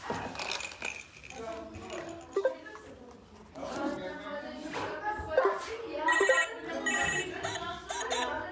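An electronic toy phone plays a bright ringing melody in short repeated bursts, heard up close alongside someone talking.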